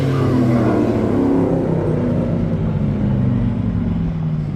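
A Dodge Scat Pack engine roars continuously at high revs during a burnout, loud and close, with no talk over it.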